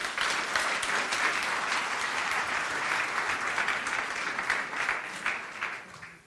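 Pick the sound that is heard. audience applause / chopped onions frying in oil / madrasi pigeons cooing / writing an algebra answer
audience applause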